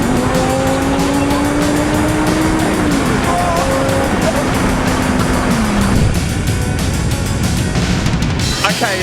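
A Lamborghini on new tyres drives hard, its loud engine note rising steadily and shifting down through gears, with tyre noise and roar close and dominant throughout.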